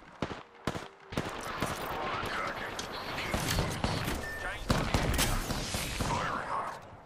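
Gunfire in a battle royale video game, with a few sharp shots followed by sustained rapid bursts that carry on steadily under a voice speaking.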